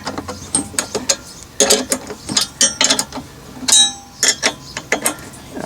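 Chainsaw mill bolts are cranked tight with a ratchet, producing close, sharp bursts of metallic clicking with brief pauses between strokes and faint clinks, and no one speaking.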